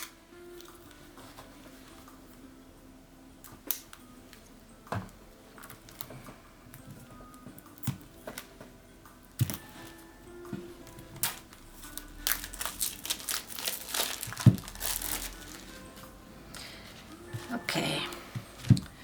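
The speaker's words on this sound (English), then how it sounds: "So let's open the cards." Tarot card deck being unboxed, with crinkling wrapper, tearing and tapping of card packaging in irregular bursts that grow busier toward the end, over a quiet room.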